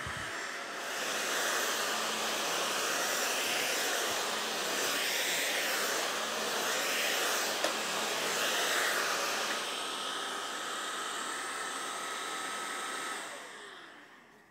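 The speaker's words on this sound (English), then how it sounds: "That was the Oraimo Cordless Stick Vacuum Cleaner." An Oraimo UltraCleaner S2 cordless stick vacuum cleaner runs on carpet with a steady, airy motor whine and suction roar for about twelve seconds, then switches off and winds down, with no one talking.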